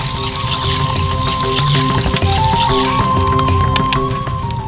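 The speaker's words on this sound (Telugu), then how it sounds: "వాటర్ పోసుకున్నాము." Water pours steadily into a kadai (wok-like pan) on the stove, a continuous close gurgling splash with a faint hum underneath and a few small clicks.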